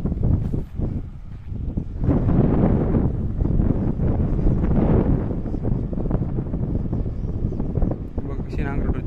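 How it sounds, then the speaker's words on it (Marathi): A Kubota 55 HP four-wheel-drive tractor ploughs a field, giving a steady, close low rumble with wind buffeting the microphone and someone talking over it throughout. "हा जो ट्रॅक्टर आहे हा कुबटाचा आहे,"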